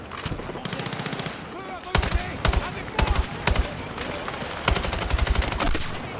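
A light machine gun in Battlefield 6 fires several sustained bursts of rapid shots, loud and close, with short pauses between volleys and a few heavier single impacts.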